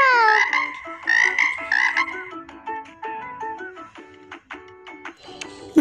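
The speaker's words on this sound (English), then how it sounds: "Frog." A frog croaks in a rapid, rhythmic series of loud, close calls, with no voices over it.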